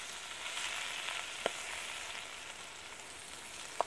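Broccoli greens sizzle steadily in a hot pot as they are folded in, a continuous moderate frying hiss with two faint sharp utensil clicks, no voices.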